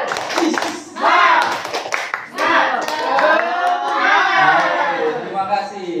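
Audience doing a rhythmic spirit clap at a school teachers' training session, patterned hand claps mixed with lively group voices chanting and shouting along.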